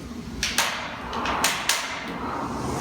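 A rowing machine rope knocks and clacks during rowing strokes, a few sharp knocks spaced about a second apart over a soft whooshing background, close by.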